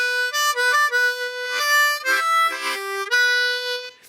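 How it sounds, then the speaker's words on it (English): A blues harmonica plays a trill phrase alone and close up, with rapid wavering notes and short bent breaths across about four seconds. "we are going to go back to the trill phrase"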